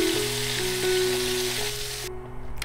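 Pieces of pork fry in a pan for a sweet-and-sour dish, giving a steady close sizzle with faint crackles that cuts off near the end.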